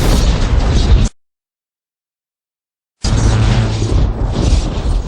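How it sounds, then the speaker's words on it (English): A lightning bolt blast effect in a children's read-along story: two loud, broadband crackling bursts, each about a second or two long and split by a full silent gap, with no talk. "A bolt charged toward Nyx. Gruff saved her by taking the blast."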